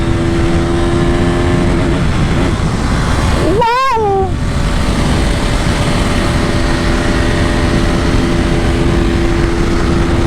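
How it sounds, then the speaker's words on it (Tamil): A KTM RC 200 BS3 motorcycle engine runs loudly and steadily close by for the whole stretch, with one brief revving swell near the middle that rises and falls. "கேடிஎம்மோட அந்த சவுண்டே ஒரு மாதிரி இருக்கும் கைஸ்"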